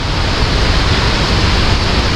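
The Tad Yuang waterfall in southern Laos, a tall fall, pours with a loud, continuous rushing roar, close and unbroken, with no voices.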